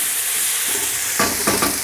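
Chicken fried rice sizzling in a hot pan with turmeric, a constant bright frying hiss followed by a few quick scraping stirs of the spatula toward the end, no voices.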